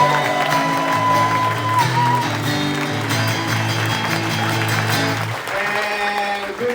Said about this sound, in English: round of applause for Mike Young right now, please